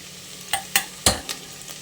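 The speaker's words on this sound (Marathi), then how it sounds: "हा कांदा कच्चा आहे कच्चा टोमॅटो आणि म्हणून तो आपल्याला आता तेलावर छान परतून घ्यायचा आहे" Raw onion and tomato sautéing in oil for a spicy crab curry, with a soft sizzle under four or five sharp, close spatula scrapes against the pan, no talking.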